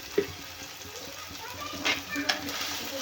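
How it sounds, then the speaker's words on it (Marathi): Ginger and garlic frying in oil, a soft continuous sizzle close by with occasional stirring clinks, under a person talking. "छान भाजून घेऊया तेलामध्ये"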